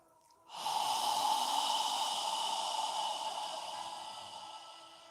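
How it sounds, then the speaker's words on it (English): A single long, open-mouthed exhale in a quiet room, a soft steady breathy hiss that swells quickly, holds for several seconds and slowly fades, with no talking. "as you exhale, imagine you're fogging a mirror with your breath"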